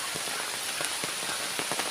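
Heavy rain pours on a rubber plantation, a dense, loud hiss with scattered sharper drops pattering close by, steady throughout with no voices.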